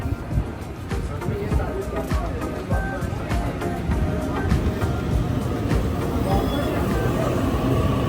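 A train pulls into a Sydney station, giving a steady low rumble with scattered clanks and squeals, while crowd noise and voices sound throughout.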